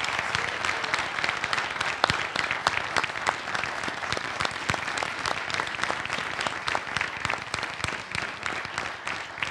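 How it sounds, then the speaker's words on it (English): An audience applauds panelists at the close of a webcast discussion, with dense, sustained clapping from many hands continuing steadily throughout at moderate volume. "Another round of applause to every single one of you."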